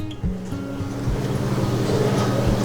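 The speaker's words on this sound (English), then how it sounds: "the noise that you hear is my dishwasher, because I cleaned up the kitchen while I was waiting on this to process" A dishwasher runs in a home kitchen with a steady low churning drone, and a few soft thumps and knocks rise over it at close range.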